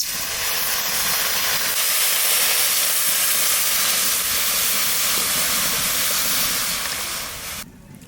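Water hits hot oil in a pot with a loud, sustained hissing sizzle of steam that holds steady for several seconds, then tails off abruptly.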